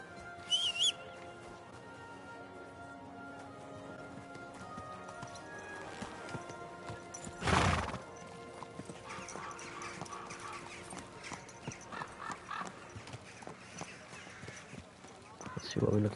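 Horse hooves clip-clop steadily in Kingdom Come Deliverance II, with a short whinny partway through, while voices talk over it.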